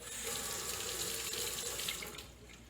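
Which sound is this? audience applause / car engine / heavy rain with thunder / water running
water running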